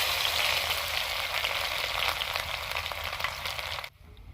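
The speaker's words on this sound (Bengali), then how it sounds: "এখন আমরা রসুনটা দিয়ে নেব।" Garlic frying in hot oil in a wok makes a loud, dense sizzle that holds steady for several seconds, then cuts off abruptly near the end.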